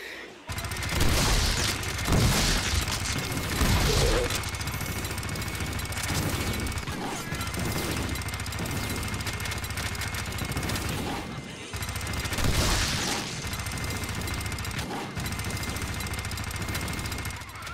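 Gunfire in the Deadpool video game: sustained, loud rapid shooting and crashing impacts running continuously with a few heavier bursts, mixed with game sound effects.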